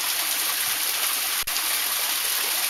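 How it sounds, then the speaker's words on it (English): Constant, loud rush of a waterfall at the top of Hellhole Canyon, steady broadband roar filling the whole moment with no voices. "Waterfall."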